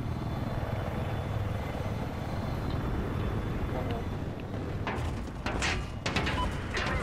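Helicopter rotor and engine in Battlefield 4 combat, a steady loud droning thrum filling the background, with bursts of sharper gunfire-like cracks and impacts near the end.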